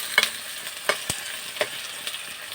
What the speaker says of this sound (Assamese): ৰঙচুৱা নোহোৱালৈকে এইখিনি অলপ ভাজি থাকিম।